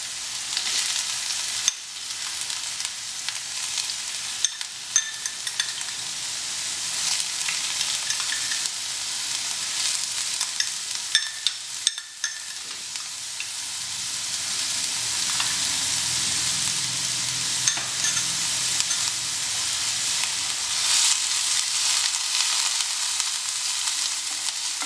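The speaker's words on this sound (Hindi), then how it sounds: "प्याज हमारे लाइट ब्राउन हो चुके हैं।" Onions fry in a pan of oil until light brown, a steady close sizzle with occasional spoon stirs and scrapes, with no talk over it.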